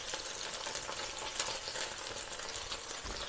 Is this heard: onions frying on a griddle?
yes